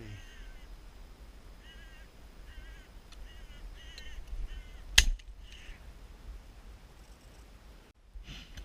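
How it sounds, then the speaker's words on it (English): Faint crows cawing in short repeated calls at a distance during a silenced crow shoot at sunrise, over a low outdoor rumble, with one sharp knock partway through. "and the crows keep on coming"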